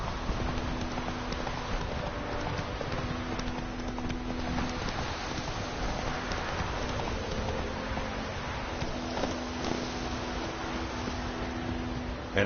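Steady clip-clop of a horse's hooves at a gallop in The Witcher 3, a continuous even rhythm carried under light wind noise for the whole stretch, moderately close and loud.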